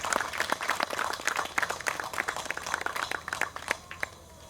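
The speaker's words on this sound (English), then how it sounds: "Let's give a round of applause for all of these sponsors and donors." Audience at a Hmong American Day Celebration claps for sponsors and donors, a lively burst of many hands close by that gradually thins toward the end.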